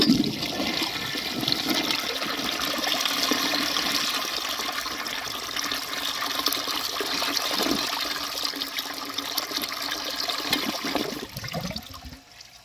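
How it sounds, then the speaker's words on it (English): A 1951 Crane Neuday toilet with its original flush valve and handle flushes in one long rushing surge of water with a small jet, tapering into quieter refilling gurgles near the end; no talking. "The flush is really cool, and I like how it has that little jet up there."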